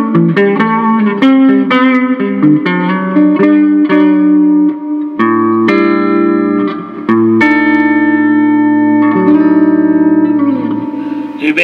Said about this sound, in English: the digital effects, and you have 16 choices, and this is number 9, which is basically a reverb,